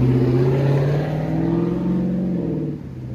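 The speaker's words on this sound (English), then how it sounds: "Here comes some big car showing off." A car engine revs hard nearby, its deep growl rising and then fading slightly as the vehicle passes.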